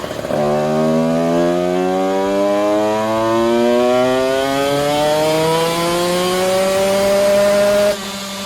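KTM SX125 2019 two-stroke engine on a dynamometer, a loud steady high-revving drone whose pitch climbs gradually through a power run before cutting off near the end.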